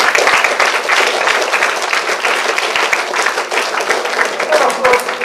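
A college audience applauds loudly and steadily, a dense wash of many hands clapping close by that lasts the whole stretch.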